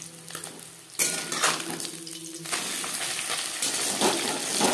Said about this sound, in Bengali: 4 চামচ সরষের তেল গরম করে নেওয়ার পর দিয়ে দিলাম লবণ হলুদ মেখে রাখা পুঁটি মাছ।